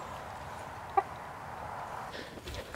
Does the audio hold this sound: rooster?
yes